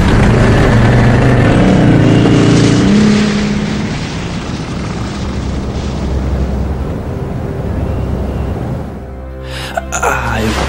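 A snowmobile in Resident Evil Code Veronica starts up and drives off with a loud, rushing engine roar and wind noise that fades toward the end, alongside game sound effects.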